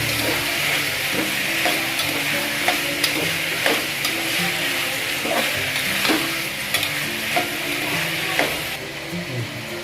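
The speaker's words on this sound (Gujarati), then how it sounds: "બધું મિક્સ કરી નાખશું બરાબર" Vegetables including potato, capsicum and cauliflower being stirred in a pan for street-style tawa pulav, with steady scraping and stirring strokes over a continuous sizzle of frying, close and fairly loud, no talking.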